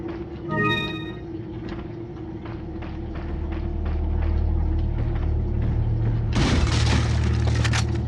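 A sudden loud explosion erupts late in Resident Evil 4, a broad bright burst over a steady low rumble and game background noise, with a sharper crack earlier on.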